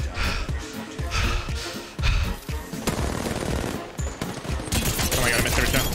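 Rapid automatic gunfire in an Apex Legends match rattles in dense bursts, loud and close, with short gaps between volleys and a player's voice talking over the shooting.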